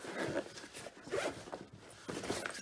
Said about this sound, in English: Zip it up.